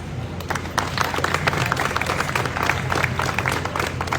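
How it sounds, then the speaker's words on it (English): Audience at a Dominican Republic Independence anniversary ceremony in Jamaica applauds steadily, dense clapping sustained throughout at moderate level with crowd murmur beneath. "A round of applause."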